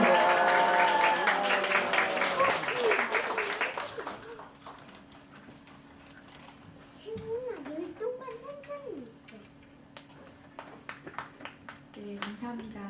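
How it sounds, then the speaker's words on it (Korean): An audience at a church-style teachers' seminar gives a burst of welcoming applause for an incoming speaker. The clapping is dense and loud at first, fades after about four seconds, and gives way to a quieter room with some voices. "우리 이 시간 할렐루야로 박수로 모시도록 하겠습니다."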